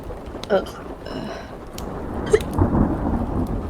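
A low, rumbling roll of thunder during rain, building in the background and swelling near the end, with people talking over it.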